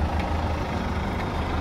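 A bus idles or pulls away nearby on a street, with a heavy low engine drone that stays steady and fairly loud throughout the short stretch and has no voices over it.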